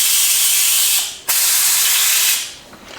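Brake cleaner sprays in loud, close hissing bursts onto corroded terminals of a John Deere Gator utility vehicle, with a brief pause between two long blasts.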